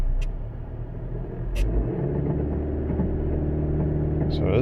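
A 2018 Honda Accord with a 1.5L turbo engine that is stalling, accelerating poorly and running rich, rumbling steadily and swelling as it builds boost, with a couple of brief clicks over the low drone.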